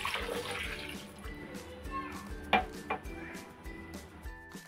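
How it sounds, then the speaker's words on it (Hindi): Milk is poured into a mixer jar holding mango pieces for a mango milkshake, a soft, close splashing gush with light clinks of the jar in a quiet kitchen. "अब इसमें मैं डालूंगी दूध।"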